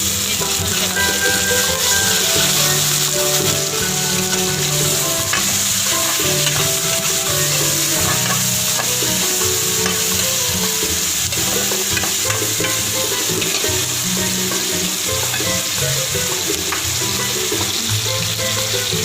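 Chicken frying in hot oil with garlic and ginger for chicken macaroni, a loud, dense, continuous crackle and sizzle with intermittent stirring clatter throughout, no talking.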